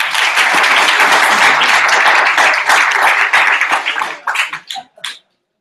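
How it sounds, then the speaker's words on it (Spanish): A group at a training session gives loud applause for a woman who has just shared a story, close, dense clapping that thins into a few scattered final claps before stopping. "un fuerte aplauso para ella"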